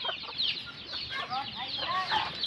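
A Rhode Island Red chicken clucks repeatedly in short, close, irregular bursts, with faint talking and other farmyard sounds in the background.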